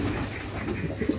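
Sirazi pigeon cooing softly in a loft where it sits on a pair of eggs, a low, steady murmur of coos that swells into a couple of louder, fuller coos at the end.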